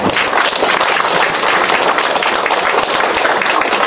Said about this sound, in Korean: 우리 총리님께 다시 한번 큰 박수 부탁드립니다.